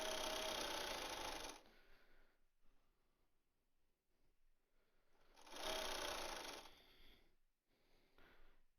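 A sewing machine stitches a fabric mask in two distinct bursts of quick, close mechanical whirring, separated by a quieter stretch with faint handling sounds.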